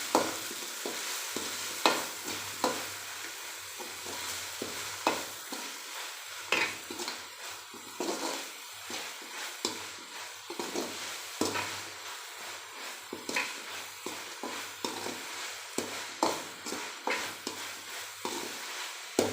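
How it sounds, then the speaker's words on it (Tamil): Two tablespoons of ginger garlic paste sizzle in hot oil for a Kola fish curry while a spoon stirs and scrapes the pan. Steady frying hiss runs under frequent close, irregular stirring clinks, with no voices. "இஞ்சி பூண்டு விழுது 2 டேபிள் ஸ்பூன் சேர்த்துக்கிறேன். இதையும் நம்ம நல்லா அந்த எண்ணெயில் நல்லா வதக்கிக்கலாம்."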